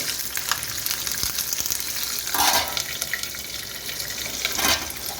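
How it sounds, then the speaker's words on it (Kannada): Green chillies frying in oil in a pan while cooking a Kannada-style fenugreek-leaf dal, giving a steady close sizzle with occasional stirring scrapes and brief watery splashes. "ಈ ಹಸಿಮೆಣ್ಸಿನ್ಕಾಯಿನೂ ಇದರಲ್ಲೇ ಫ್ರೈ ಮಾಡ್ಕೊಂಡು ಬಿಡಬೇಕು"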